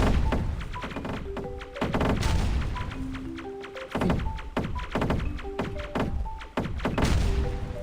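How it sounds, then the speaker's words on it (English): Grenades go off in a video game, giving a string of sharp thuds and booming blasts mixed with game effects and tonal beeps, loud and close throughout. "let me just blow them all up with a grenade"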